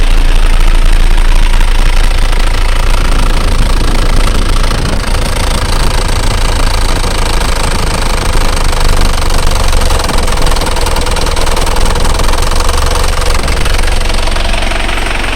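An Isuzu Panther engine idles at raised RPM, a loud, steady, close mechanical rumble with a knocking clatter throughout and no speech.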